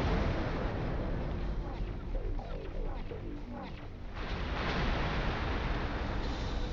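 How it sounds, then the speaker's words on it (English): Explosions from a damaged module in the X4 Foundations space game, a continuous heavy rumbling roar with dense low blasts that holds throughout, dipping slightly midway before swelling again. "Until we get caught in the next explosion."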